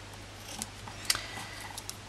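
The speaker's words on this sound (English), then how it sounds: "and then I can trim those edges" Scissors give a few quick, faint snips trimming the ribbon ends of a bow on a wine bottle gift box, over quiet background hiss.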